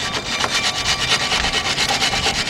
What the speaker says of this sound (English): you want to clean those slots out where the brake pad goes